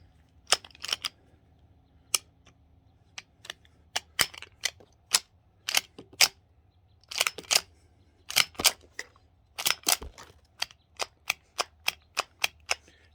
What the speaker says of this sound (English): Now it's even catching trying to put the slide back to just eject the shell